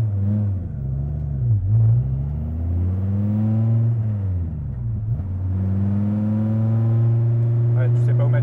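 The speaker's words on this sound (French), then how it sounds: "La voiture, elle démarre sur le couple." A Dodge Viper RT/10 pulls away from a standstill on torque, its engine droning low and loud with rising, falling and rising revs across the run, close and steady with no talk over it.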